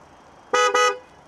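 A Dongfeng Huge car gives two short, loud horn honks back to back as it is switched off, close and sharp against a quiet idle background.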